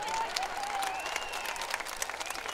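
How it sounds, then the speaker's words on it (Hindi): Women in a large crowd at an outdoor political campaign rally clap steadily, a dense continuous patter of applause with a faint whistle or tone drifting above it. "देखो महिलाएं ताली बजा रही है, पुरुष ताली नहीं बजा रहे।"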